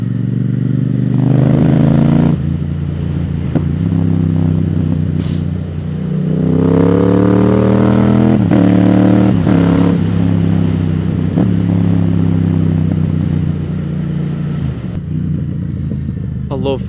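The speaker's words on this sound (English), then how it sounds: "I love the sound of this bike though." A Yamaha MT-07 motorcycle engine revs loud and close on twisty roads through enclosed narrow streets, rising and falling through several throttle blips and gear changes over a steady throbbing drone for the whole stretch.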